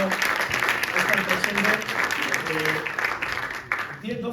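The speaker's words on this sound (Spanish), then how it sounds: "un aplauso para Unai también por haber" Applause from the audience at a Gipuzkoa Basket event on mental health in sport, a steady wash of clapping over about four seconds with voices mixed in.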